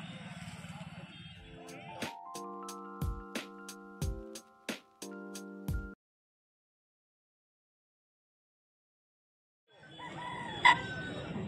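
Roosters crow in a clear sequence of loud, stacked calls at the Balibhasa rooster market in West Bengal, with clucking chickens and crowd murmur around them. A few seconds of quiet follow, then the bustle of the market returns.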